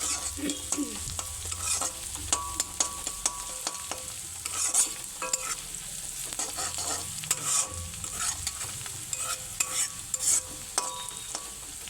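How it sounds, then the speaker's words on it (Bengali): Garlic paste sizzles and spits in hot oil in a home kitchen while a spoon stirs it with steady scraping strokes, close and continuous. "অল্প একটু দেখো রসুন বাটা দিয়ে দিলাম তেলের মধ্যে, একটু রসুনের গন্ধটা ছাড়ে"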